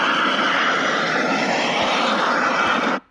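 An airplane making an emergency landing roars with a loud, steady broadband engine and wind rush that cuts off abruptly after about three seconds, with no talk.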